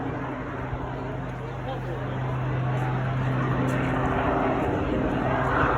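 A display aircraft at the Eastbourne Airshow with its engine power coming back on during a recovery manoeuvre, a steady broad engine roar with a low hum that swells slightly louder toward the end, heard at a distance.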